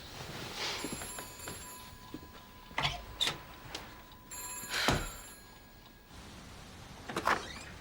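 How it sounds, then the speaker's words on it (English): A telephone rings in bursts of electronic trilling, fairly close and clear, with clunks and movement noises between the rings in a quiet room. "No, Mike, the phone."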